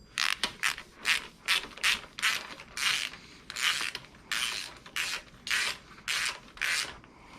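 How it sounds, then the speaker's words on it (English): A ratchet tightens a bolt on the engine bay of an Infiniti G35 during a Nismo HR engine swap, about a dozen quick, loud clicking bursts in a steady back-and-forth rhythm, close up and without talk. "Let's tighten this one up."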